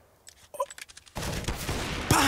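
Gunfire in a pro CS:GO match on Dust2: a few sharp shots and clatter give way to a sustained loud burst of firing, ending in a bright, heavy report.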